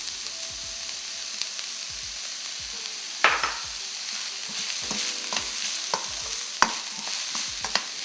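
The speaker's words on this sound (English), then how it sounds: "You don't want the spices to be burned, so you just saute it for a few seconds." Spices for a samosa filling sauté in oil in a pan, giving a steady soft sizzle with scattered taps and scrapes of a utensil stirring, close by and with no voices.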